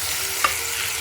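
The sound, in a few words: tomatoes added to sizzling ginger garlic paste in pan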